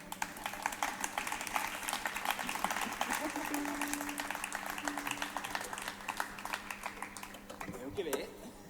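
A masked audience at a Barcelona architecture exhibition event breaks into applause, with sustained crackling claps that end abruptly near the close, while faint voices murmur in the background.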